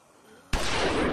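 Sudden burst of loud, dense gunfire in The Walking Dead video game, starting about halfway through after a quieter stretch and continuing steadily to the end.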